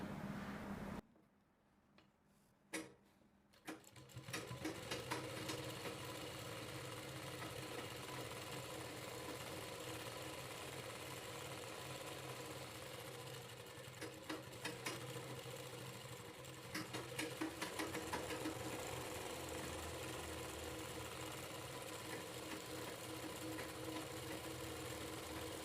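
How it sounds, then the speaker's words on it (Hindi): A sewing machine stitches together the flared panels of a kalidar lehenga for a Rajputi suit, running as a steady, close mechanical whir for most of the stretch after a brief quiet start. "इस प्रकार से फोल्ड करके हमें ऐसे सिलाई को लगाना है।"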